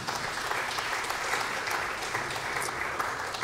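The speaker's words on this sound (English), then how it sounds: "Yeah, you can applaud that." An audience at a jazz night showcasing Danish bands applauds with steady, dense clapping that holds at an even level throughout, with no talk over it.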